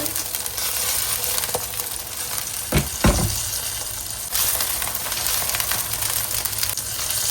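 Steady sizzling of a Chiu Chow luffa pancake frying in a hot oiled pan, with a couple of brief clinks of a utensil partway through.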